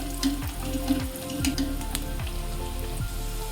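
Hot green chilli dropped into a sizzling pan while making dry paneer chilli, giving a steady close frying hiss with a few soft clinks and stirring knocks over about three seconds.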